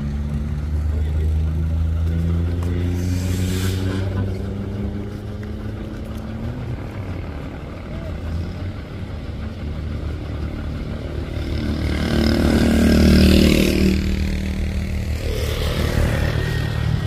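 A boat engine runs loud and steady with a deep droning hum, swelling as the throttle opens toward the end while a voice speaks over it.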